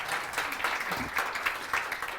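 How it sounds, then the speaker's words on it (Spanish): An audience applauds a presenter at a cultural talk on fantasy and myth, giving a short burst of steady clapping at moderate loudness with a few distinct claps on top. "un aplauso para ella"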